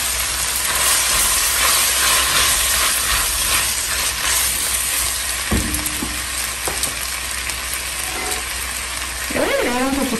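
Chopped tomato and cilantro sizzle with softened onion in a pan, making a loud, steady hiss throughout with brief scraping stirs near the end.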